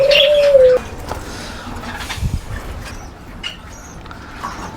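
Pet pigeons or doves coo close by, a clear tonal call at the start followed by softer chirps and scattered bird sounds in a quiet indoor space, with no speech.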